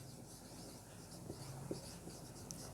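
Someone writes by hand while working a number theory problem: faint, close scratching strokes with a few light taps, and no talk over them.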